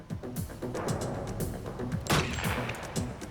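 Gunfire in a bank robbery reenactment: several sharp, loud shots spaced irregularly over a dense, rumbling background.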